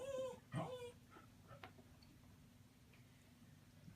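A dog gives a short, faint whimpering whine followed by a few quiet ticks and shuffles in a quiet indoor room.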